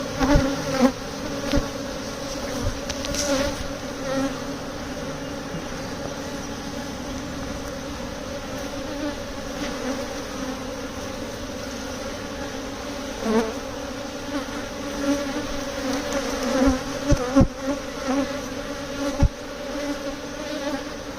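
A spring honeybee swarm buzzes steadily and densely close by during its transfer into a Layens hive, with individual bees flying past the microphone now and then.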